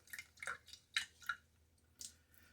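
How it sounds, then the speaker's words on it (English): Water splashes and drips in several short, soft bursts as a face is wetted at a sink before a shave. "Let me get my face wet."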